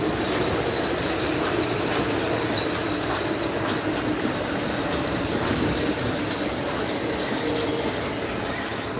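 A slow-moving Metro-North train rolls across Williams Bridge, with a steady rumble of railcars and wheels that carries on throughout, broken by occasional squealing wheel tones.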